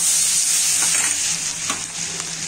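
Finely chopped garlic hits slightly scorched butter in a hot pan, setting off a loud, bright, continuous sizzle with a few stirring clicks that eases a little toward the end.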